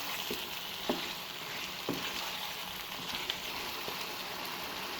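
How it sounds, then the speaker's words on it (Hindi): Spices being stirred into chicken curry with potatoes and peas in a hot pan, a steady sizzle of frying broken by a few scraping strokes of the spoon, close and alone. "अब इसमें ऐड करेंगे स्पाइसेस। इनको अच्छे से मिक्स कर लेना है।"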